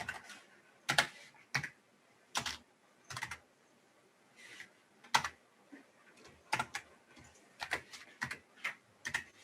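Typing on a computer keyboard, sparse quiet key clicks in irregular short clusters with pauses between, close and alone with no talking.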